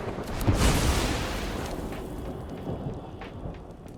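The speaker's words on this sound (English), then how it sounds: "And it's going to lightning strike our Imago." Thunder from a Lightning Strike spell effect in the MTG Arena card game: a loud crack and deep rumble that rolls away and fades, with a rain-like hiss underneath and no talking.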